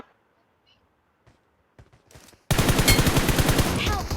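Gunfire in a military-base bridge fight in a shooting video game, starting with a few faint scattered shots and then bursting into a loud, sustained rapid volley that fills the rest of the clip.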